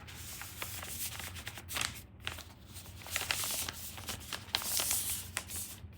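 Paper cruise luggage label being folded section by section, giving repeated close crinkling and sliding rustles with soft creases and brief pauses throughout.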